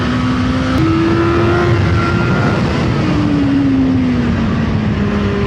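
A CFMOTO 750SR-S motorcycle engine drones loudly and steadily while riding in third gear, its pitch stepping up briefly then sagging slowly as the bike holds speed, with rushing wind noise throughout.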